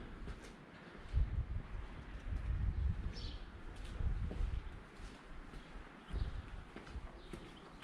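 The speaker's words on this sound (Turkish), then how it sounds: "Kuşlar var." Birds, likely pigeons cooing, in a quiet town square beside the Great Mosque in Yozgat, heard faintly from a distance over soft outdoor ambience and occasional footsteps.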